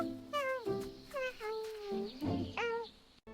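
A black cat meows several times in a row, clear, close and fairly quiet, with rising and falling cries spaced across a few seconds.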